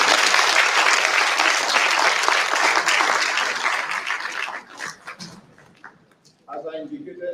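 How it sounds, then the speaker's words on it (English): Conference audience applause rings out loud and sustained for several seconds, then thins to scattered claps and fades before a voice begins speaking. "So can we do better and give them another round of applause?"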